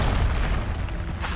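A Confringo spell explosion in Hogwarts Legacy lands as a short, heavy booming blast, loud and close, with a deep rumble filling the moment.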